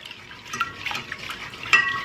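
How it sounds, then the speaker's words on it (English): A utensil stirs 1 cup of white sugar into 1 cup of water in a pan, giving soft, uneven scraping and light clinks against the metal, fairly quiet and close with no voices. "I'm gonna give that a little bit of a mix just to dissolve it a little bit"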